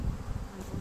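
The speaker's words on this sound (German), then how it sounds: "das Wetter lässt ab und zu, lässt die Bienen fliegen" Honey bees in flight around a double colony hive, a steady, dense buzzing hum that fills the whole short moment with no voices.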